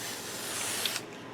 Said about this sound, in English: We're going to first spray it down.